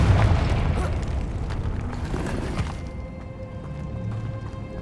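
A Confringo spell explosion in the video game Hogwarts Legacy bursts with a heavy boom up front, then rumbles and fades into a lower, quieter tail.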